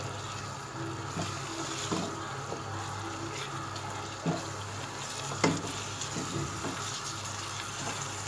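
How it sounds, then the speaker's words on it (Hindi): Minced meat keema frying on high flame, a steady sizzle and hiss with intermittent scraping stirs and clinks, close and continuous. "अब हमने फ्लेम हाई करके इसको हम अच्छी तरह भूनते हैं कीमे को।"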